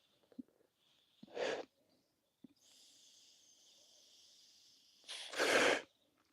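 A man gives two short, sharp sneezes a few seconds apart, close and fairly loud, against a quiet room with a faint, steady high hiss between them.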